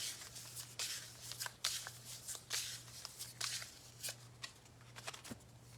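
Tarot cards being shuffled by hand give off soft, close papery swishes and flicks in irregular bursts, quiet against a low constant hum in the room.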